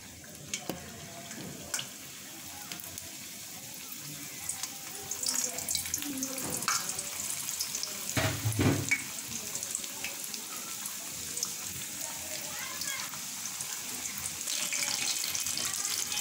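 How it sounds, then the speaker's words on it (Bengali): Mini Mughlai parathas made with flour and egg frying in hot oil, a soft steady sizzle close by with occasional clinks and stirring noises, fairly quiet throughout. "এখন আমি বাকি পরোটাগুলি তেলে দিয়ে দিচ্ছি"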